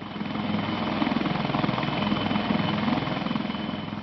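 An Indian Army HAL Dhruv helicopter flies close by, its steady loud rotor thump and engine whine continuing without a break, with no voices.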